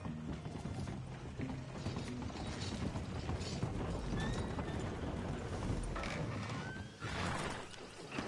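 Horse hooves clip-clop at a steady walking rhythm in Red Dead Redemption 2, mixed with creaking wagon or tack mechanisms over a continuous outdoor ambience.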